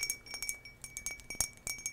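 Light clinks and taps on a turquoise everyday drinking glass, a series of bright, irregularly spaced strikes, close and fairly soft, with no talking.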